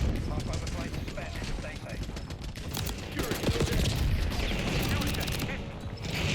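Rapid gunfire in the Black Ops 6 video game, Tanto 22 build, dense bursts of automatic shots crackling continuously and loudly, layered with game effects and other weapons, with no pause across the whole stretch.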